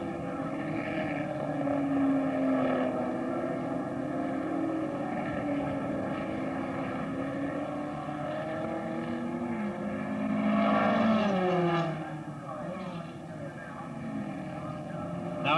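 Racing cars of the 1963 Australian Grand Prix, Bruce McLaren's among them rounding Homestead onto Hume Straight, produce a steady engine drone with a swelling pass near the middle, under continuous commentary.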